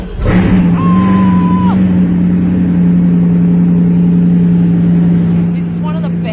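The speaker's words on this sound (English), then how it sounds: "it's a good time to start the engine" A Bugatti engine starts with a sharp catch and settles into a deep, loud, steady idle with a brief rising whine early on, rumbling close by for several seconds.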